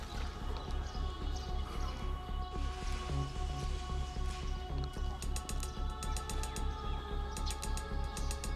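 Light rain falls steadily outdoors in Kremenchuk, Ukraine, a soft continuous patter with scattered drips, joined later by faint rhythmic high clinking.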